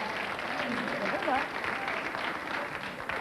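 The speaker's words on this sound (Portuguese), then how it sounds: "ainda não percebi porque é que te estão a aplaudir" A studio audience applauding in a television studio, a steady, moderately loud patter of clapping over a few seconds, with voices faintly mixed underneath.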